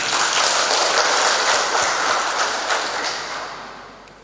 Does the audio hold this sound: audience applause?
yes